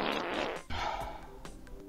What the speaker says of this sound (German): Möchtest du noch ein Furzgeräusch hören?